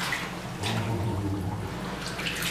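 Water sloshing and gurgling as down gear is pushed under to force out air, with low bubbling burbles, close and fairly quiet.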